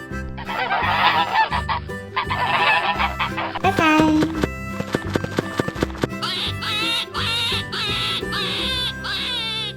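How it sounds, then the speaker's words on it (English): Goose honking in a farm-animal sound sequence, with repeated honks under a loud bed of music that continues throughout. "Goose."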